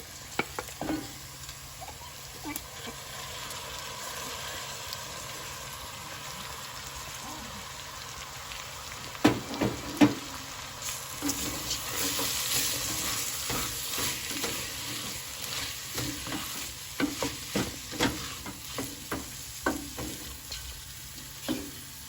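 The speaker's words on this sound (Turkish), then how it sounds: "Şimdi soğanı, patatesi birlikte ekleyeceğim" Onion and potato sizzle steadily as they are stirred into a pot of lentil soup, a utensil scraping and stirring, with scattered clicks and knocks over a low kitchen hum.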